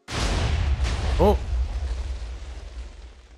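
A cannon blast in Minecraft: one sudden loud boom that rolls away in a long rumbling decay, with a short rising tone near the middle.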